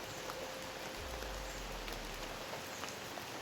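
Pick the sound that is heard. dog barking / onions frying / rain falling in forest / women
rain falling in forest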